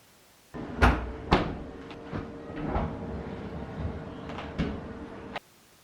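A drawer of a NewAir dual-drawer stainless steel outdoor fridge slides open, with a couple of sharp clunks followed by a rolling, rattling glide and a few small knocks, close and clear.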